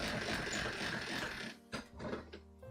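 A hand-cranked pasta machine whirs in a fast, continuous mechanical rattle as the crank spins quickly, then slows into a few separate ratcheting clicks and clunks.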